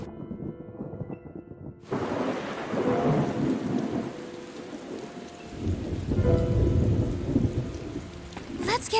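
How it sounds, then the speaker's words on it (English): Thunderstorm in the video game Tales of Xillia 2: steady rain hisses and patters close by while deep thunder rolls build and fade twice, with no voices over it. "Hope there won't be any more thunder."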